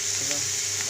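Masala for a prawn curry with chickpeas and potato frying in a pan, a steady hiss of sizzling oil with faint stirring scrapes, close and continuous with no talk.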